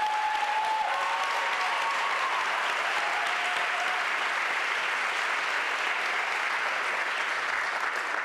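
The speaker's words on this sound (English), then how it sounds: "So once again, a round of applause." An audience at a school district State of Schools address in Nashville claps steadily, a dense, even wash of applause that holds for the full stretch without pause.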